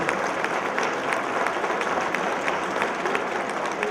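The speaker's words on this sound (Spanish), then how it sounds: "Les damos fuerte el aplauso, por favor." Steady applause from a conference audience, dense and even throughout with no pauses, filling the room without any voices on top.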